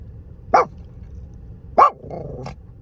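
Puppies bark in two sharp, loud yaps about a second apart, followed by a softer whining yip, close by with faint background noise and no talk over them.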